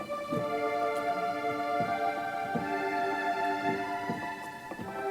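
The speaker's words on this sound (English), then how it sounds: "And then they have other voicings, like strings." Synthetic keyboard strings play sustained, layered chords, with soft note changes every second or so.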